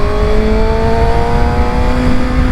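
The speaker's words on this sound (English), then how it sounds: "I love that whine of that engine. Just take a listen, and this is in low mode." Steady high-pitched engine whine from a 2022 Kawasaki Ninja ZX-6R in low mode, loud and continuous with a rising tone throughout, no talking.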